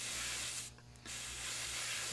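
Airbrush spraying paint on a 1/72 scale Das Werk U9 U-boat model, a soft continuous hiss that briefly cuts out mid-way and resumes, close and quiet.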